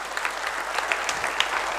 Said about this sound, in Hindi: एक बार ताली बजना चाहिए, जोरदार ताली बजना चाहिए